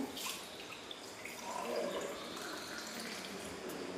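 Tap water runs in a kitchen sink while a glass is washed, a soft, steady splash with faint fluctuations that stays low throughout.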